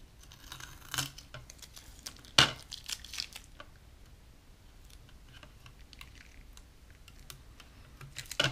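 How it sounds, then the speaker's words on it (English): Masking tape is peeled off a freshly painted 1/1000 scale Discovery Enterprise model, making close, soft crackling rips and sticky tearing sounds in short irregular bursts, with one sharper pull standing out among quieter rustles. "We're just going to take the tape off here."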